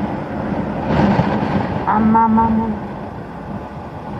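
Strong wind roars and buffets steadily past a motorbike rider on a trip through Lower Mustang, a loud rushing blast that swells midway, with a voice briefly calling out over it.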